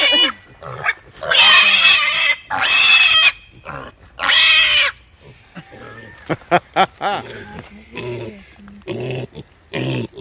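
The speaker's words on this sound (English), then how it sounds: "He's buying him a new boar pig." A heavy boar pig on a family farm grunts and squeals in loud, harsh bursts, with long rough snorts early on and quicker, choppy grunts and snuffles toward the end, close up.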